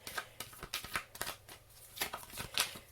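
Tarot cards being shuffled and drawn by hand, a quiet close series of crisp riffling snaps and soft slides in an uneven rhythm, with no one talking.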